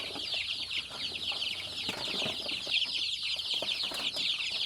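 A crowd of six- to ten-day-old village chicks (ayam kampung) peeps continuously in a dense, high-pitched chorus of chirps inside a free-range pen joined to a brooder box, close and steady.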